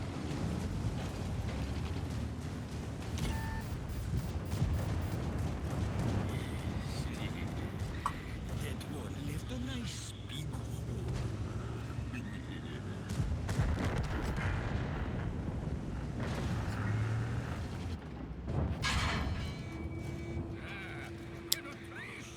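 Tank cannon fire in the World of Tanks game, aimed at an enemy tank's tracks. Repeated booming shots and rumbling battle noise run throughout, dense and continuous, with game sounds layered over a steady low roar.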